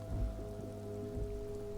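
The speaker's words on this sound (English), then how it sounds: "Rain drips from the eaves." Rain drips from eaves in the video game Disco Elysium, a soft, quiet patter under a sustained, droning musical backdrop.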